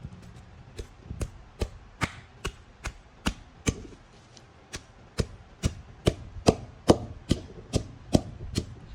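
Onions and salt pounded in a mortar for a chutney: sharp, evenly spaced thuds in a steady rhythm, about twenty strikes close up, growing slightly heavier toward the end, with no speech.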